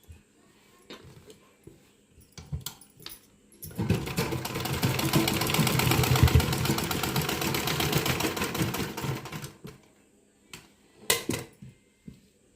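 A sewing machine runs in one continuous burst of rapid mechanical stitching, several seconds long, while a dhoti salwar is sewn, with scattered clicks and handling knocks before and after the run.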